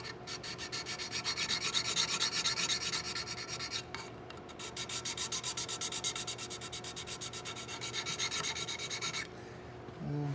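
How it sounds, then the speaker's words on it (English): A hand file rasps steadily against wood while shaping a patch box inlet on a colonial rifle kit stock, with close, continuous rubbing strokes that pause briefly midway and then resume. "get the file again that I want, and we're going to take a little bit off the bottom and a little bit off the sides too"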